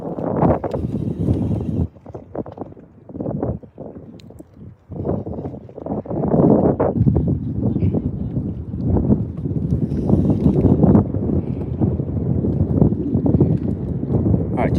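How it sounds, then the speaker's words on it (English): Gusty wind buffets a microphone outdoors on a fishing boat, rumbling low and loud throughout, mixed with someone talking and some bumping. "the wind has kind of picked up today"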